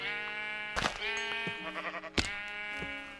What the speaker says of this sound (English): Oh, two sheep. Two sheep.